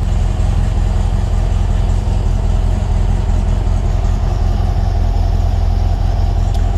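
A motorcycle engine with a 39mm carburetor, running without its air filter and with the choke on, idles steadily and loudly at close range with a constant low rumble and no talk.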